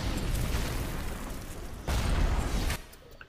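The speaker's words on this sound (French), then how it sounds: "il y a un lance-grenade, je ne sais pas où il est, mais je l'ai entendu" Blasts from a grenade launcher in BioShock: a loud, dense explosive burst sustained across the clip, with a sharper surge near the end before it drops away, with no talking.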